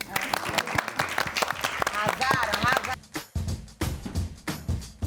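Studio audience applauding at the close of a Brazilian TV talk show, a dense wash of clapping that starts under a host's voice and turns to loud, choppy bursts of applause.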